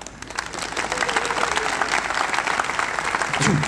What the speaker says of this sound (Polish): brawo od Państwa!